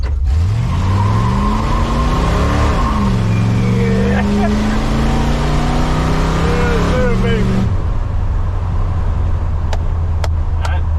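A nearby 1966 Chevy C10 pickup engine, revived after sitting three years, revs hard, its pitch climbing and dropping through several surges, then cuts back to a low idle rumble.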